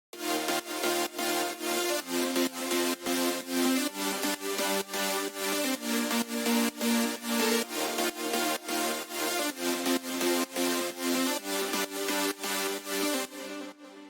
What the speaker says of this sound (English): So it's basically just drop chords and then piano on top.